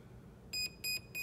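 Three short, evenly spaced electronic beeps ring out from a Proboat Zelos 36 ESC in programming mode, each clear and piercing against a faint background hiss.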